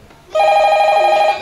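Telephone ringing during a children's stage show, a loud electronic trilling ring that starts abruptly and sounds for about a second before cutting off, with no one talking.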